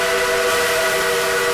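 A steady, loud, high-pitched steam whistle from Southern Railway 4501, a steam locomotive in the Trainz game, held as one continuous blast with no voices.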